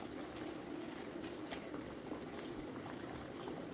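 A pot of water bubbles at a steady boil while candy is made with lemon juice added, giving a faint, continuous churning hiss with no clear breaks.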